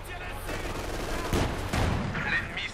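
Machine gun fire in the World War II strategy game Company of Heroes 2, with a Wehrmacht unit shooting bursts amid dense battle noise, sharper shots near the middle and end over a steady rumble.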